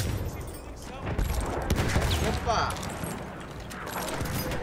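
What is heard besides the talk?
gunshots from video game Battlefield 1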